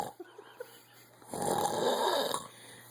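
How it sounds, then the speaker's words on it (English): A man snores in one long, rasping breath that swells and then fades, close and alone, with a few faint sniffs and clicks before it. "I snore terribly"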